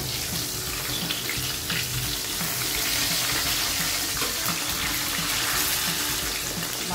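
Bacha fish frying in oil in a covered pan, a dense, steady hiss and crackle that fills the whole stretch without a break, with no voices.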